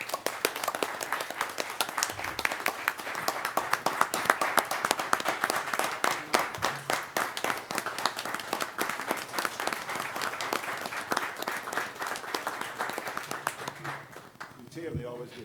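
Sustained applause from an audience at a county school board meeting, dense clapping filling the room for about fourteen seconds before tapering off, with murmured talk underneath.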